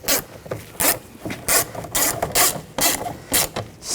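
Screws are tightened on a Nissan Rogue front exterior door handle, giving a rapid series of ratcheting clicks in short bursts, close and fairly loud.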